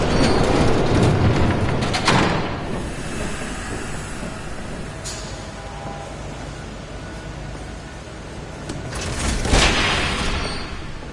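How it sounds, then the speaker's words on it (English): A train rumbles past in the Batman Telltale game, a steady broad roar and rattle that swells, eases off through the middle, then surges again near the end with a few sharp clanks. "There's a train coming."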